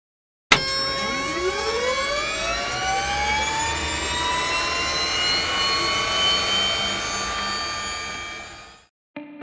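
Archer Maker demonstrator eVTOL aircraft starting up with a sudden onset, rising whine of electric motors and rotor tones climbing in pitch then holding steady, loud and close, cutting off near the end.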